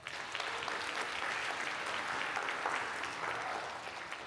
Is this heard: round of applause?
yes